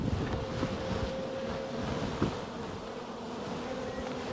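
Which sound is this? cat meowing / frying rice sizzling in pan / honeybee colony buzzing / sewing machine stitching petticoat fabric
honeybee colony buzzing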